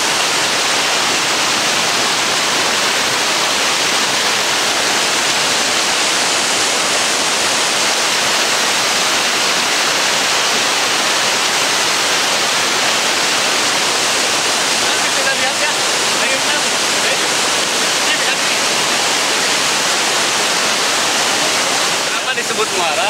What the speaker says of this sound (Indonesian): Disebut muara karena ini adalah merupakan satu pertemuan dua sungai yang dari arah sana dari arah Ciwidey